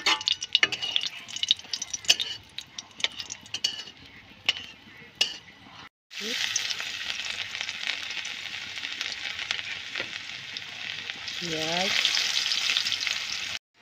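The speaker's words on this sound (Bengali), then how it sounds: "পেঁয়াজটা আমার লাল লাল করে ভেজে নিয়েছি" Dried chillies and onion frying in oil for a water spinach dish: a few scattered clanks at first, then a sudden loud, continuous close-up sizzle that rises again toward the end.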